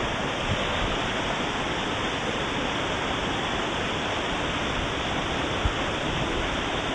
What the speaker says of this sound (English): Bye-bye, waterfall.